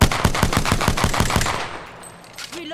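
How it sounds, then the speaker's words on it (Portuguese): Rapid, evenly spaced bursts of automatic gunfire from a battle royale video game ring out loud and close for about a second and a half, then cut off into quieter in-game ambience. "Peguei esse de novo, mais um tiro."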